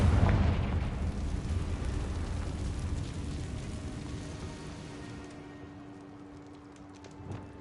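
A Confringo blasting spell in Hogwarts Legacy bursts into a loud booming explosion, then a rumbling roar fades slowly over several seconds, with a faint thud near the end.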